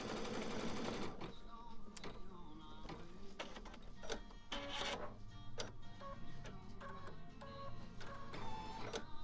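An embroidery machine stitches along its final stitch line with a fast, steady mechanical whir and rhythmic needle chatter, close and continuous throughout, with occasional brief higher motor tones.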